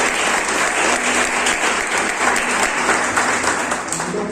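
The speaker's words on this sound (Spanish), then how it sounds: "Bríndale un aplauso al Señor." A church congregation applauds the Lord in steady, dense clapping that holds at an even level throughout, close and loud, with some voices mixed in.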